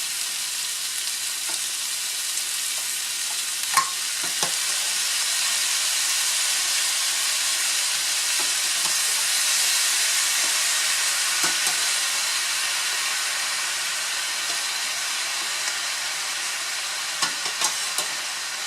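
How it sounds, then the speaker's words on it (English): Broccoli hits a hot pan for beef with broccoli, setting off a steady loud sizzle and hiss of frying that runs continuously, dotted with a few sharp pops and clicks of stirring. "Now I'm going to add my broccoli."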